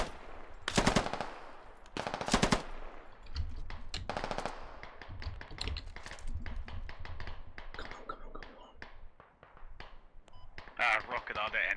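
Gunfire in the video game Squad, with loud automatic bursts and repeated single shots spread throughout, some near and sharp, others lighter and more distant, with radio chatter among players.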